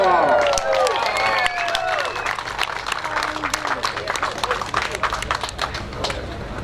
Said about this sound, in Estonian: See aplaus oli natukene nõrgaks